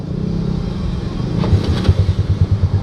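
A Yamaha Mio Sporty scooter motorcycle idles and gets under way, its small engine giving a steady, close rumble that pulses faster as it revs up toward the end.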